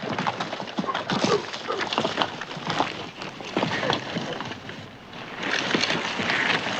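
Horses moving about with hoof clops and scuffles, mixed with shuffling and low rustling noise throughout.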